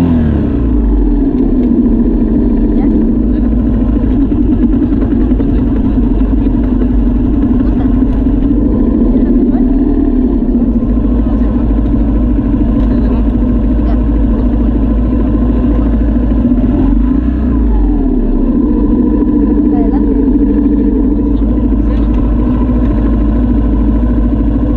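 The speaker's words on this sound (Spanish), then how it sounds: "pues sí aprendió a dominar la moto, Aldito" A motorcycle ridden by a child drones continuously and loudly close by, the engine note rising and falling slightly, with someone talking over it.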